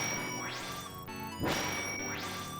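Key pickup chimes in the Skunny video game resemble an AIM instant-message notification. Bright, quick rising tones repeat several times, with a sharper clang in the middle and no voices.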